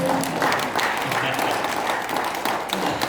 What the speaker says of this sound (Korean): 여러분 이럴 때 박수 좀 쳐주시면